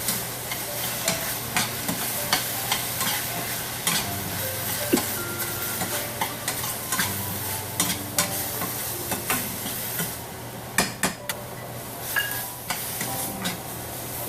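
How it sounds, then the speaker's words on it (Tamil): Chopped tomato sautés in a pan for banana flower kuzhambu, with a steady sizzle under repeated soft scrapes and knocks of a stirring spoon, close and unaccompanied by talk. "தக்காளி ஒன்றா போட்டு கொஞ்சம் வதக்கிட்டு"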